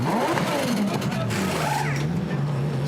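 A Lamborghini GT race car idles in the pit lane during qualifying at Zandvoort, its engine holding a steady, loud drone with a slight pitch wobble, under race commentary and surrounding pit noise.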